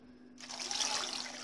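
Cold water poured over frozen cabbage leaves in a plate, a steady close splashing stream that starts abruptly and runs on without pause.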